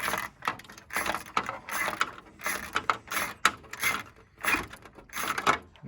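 A ratchet wrench with a 10 mm socket clicks steadily as it loosens a bolt holding the grille of a 2000–2006 GMC Yukon, rapid close pawl clatter in repeated bursts with no talking.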